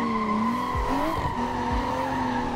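Modified BMW M2 drifting in Assetto Corsa with a straight-through exhaust, engine note holding steady and loud while tires squeal and skid in sustained smears, with a few brief low pops over the engine drone.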